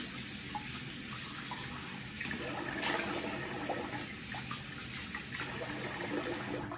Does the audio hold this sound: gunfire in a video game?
no